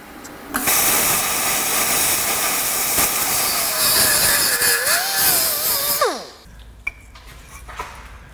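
Sheet metal is cut to shape for a structural rust repair, giving a loud, continuous harsh hiss with a wavering high whine. It runs for several seconds, then winds down and stops, leaving quiet background with a faint click.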